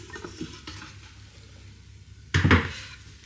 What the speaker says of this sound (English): so now grab your air fryer basket out